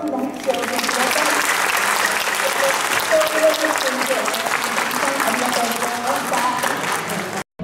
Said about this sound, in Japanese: お二人の棋士にもう一度大きな拍手をお送り